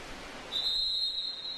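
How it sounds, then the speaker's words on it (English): A referee's whistle at a college water polo game between Carleton and St. John's, one sharp sustained blast lasting about a second over the noisy echo of an indoor pool crowd. "And now we have a whistle."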